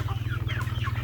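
Chickens being fed grated coconut at feeding time make soft, rising clucks and chirps over a steady low hum, several birds close by and overlapping.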